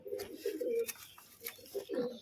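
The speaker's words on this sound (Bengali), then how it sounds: "এইখানে লাল মুসকি পায়রাটা কিন্তু এই যে ঠেসে একদম বসে রয়েছে" A red muski pigeon sits in a loft, likely nesting, as low pigeon coos come in several close, throaty bursts, near and fairly clear against a quiet background.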